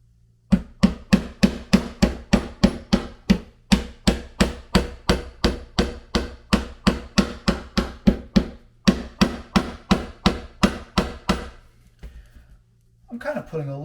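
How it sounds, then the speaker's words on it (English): A hammer drives frets into a Telecaster guitar fretboard in a long run of sharp, evenly spaced close taps, roughly thirty strikes, before a short pause and some handling noise at the end. "let's go ahead and I'm just going to hammer them on."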